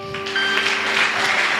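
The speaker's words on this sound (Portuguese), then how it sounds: "Vamos poder aplaudir os Senhor bem forte, amém?" A church congregation bursts into applause after a prayer, many hands clapping in a steady wash that starts abruptly and carries on evenly, moderately loud with a faint tone ringing underneath.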